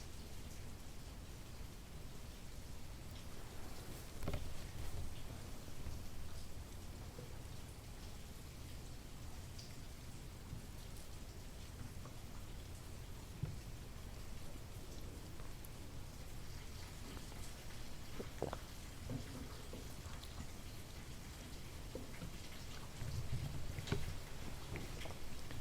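Steady rain falls outdoors as a soft, even hiss of drops, with faint low rumble and occasional louder patters, no voices throughout.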